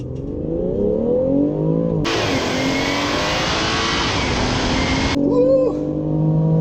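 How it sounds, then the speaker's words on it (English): 2018 BMW X3 M40i doing a launch control start in sport mode with traction off: engine held at steady high revs, then a loud roaring surge as the car launches, pitch climbing through gears, heard from inside the cabin. "So I'm going to try a launch control start now."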